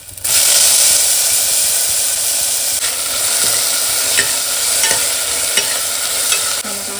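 Tomato and onion fry in hot oil with a loud, continuous sizzle and hiss, while periodic soft scrapes mark the mixture being stirred in the pan.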